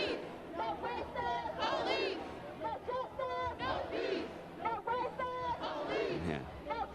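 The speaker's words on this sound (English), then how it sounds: "no justice, no peace, no racist police" Crowd of about 100 protesters marching through Charlotte, North Carolina streets, voices chanting in rhythmic unison with overlapping shouts and chatter, loud and close throughout.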